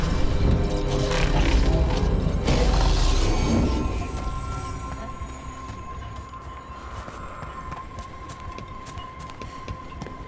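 An artifact slots into a socket in Dragon Age: The Veilguard, setting off a loud grinding, crashing mechanism that rumbles for a few seconds before fading into a lower sustained hum with a faint tonal ring.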